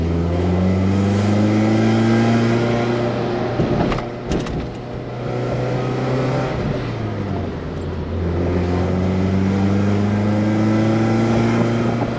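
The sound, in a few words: rare Mercedes car engine revving while driving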